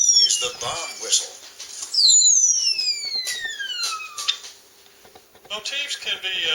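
An Oklahoma starling mimics a bomb whistle: a long, clear descending whistle sliding down in pitch over about two seconds, framed by rapid clicks, rattles and chattering song, close and distinct.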